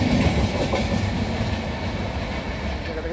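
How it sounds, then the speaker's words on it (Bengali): The Sealdah–New Delhi Rajdhani Express speeds past, a steady loud rumble with rhythmic clickety-clack of wheels on the rails, heard alone without speech. "তারপরে আবার স্পিড চলে গেল শিয়ালদা নিউ দিল্লি রাজধানী।"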